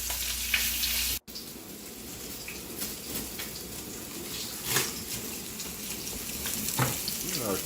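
Beef short ribs browning in a hot pan give a close, crackling sizzle with irregular spits and pops, after a brief cut near the start, with no talk over it.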